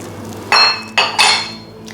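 Large potato chunks tipped into a pot of dal, landing in three quick clattering bursts against the pan with a metallic clink, close and fairly loud, with no talking.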